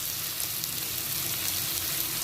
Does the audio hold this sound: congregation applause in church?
no